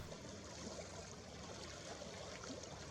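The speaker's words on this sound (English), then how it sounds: "It's just the water trickling on the shore. Or lapping. The water lapping the shore." Water trickles and laps steadily along a shoreline, a continuous soft wash of close, even noise with no voices.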